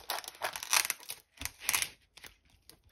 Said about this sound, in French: Et je vais les couper avec mes ciseaux.